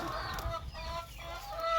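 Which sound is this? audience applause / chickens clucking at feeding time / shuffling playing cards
chickens clucking at feeding time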